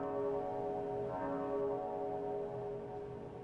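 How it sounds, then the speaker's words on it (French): A bell rings in the video game Perfect Life, one sustained, resonant, harmonic toll that hangs in the air and slowly decays, heard alone. "Faire sonner la cloche?"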